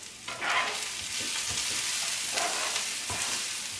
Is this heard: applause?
no